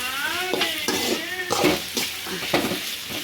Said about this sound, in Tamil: இப்போ இதை நல்லா போட்டு நம்ம வதக்கிடலாம்